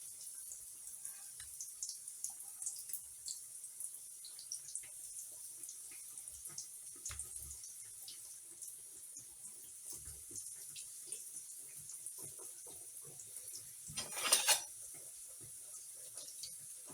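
Water runs from a kitchen tap as something is rinsed underneath, a faint, steady hiss and trickle with a brief louder splash near the end.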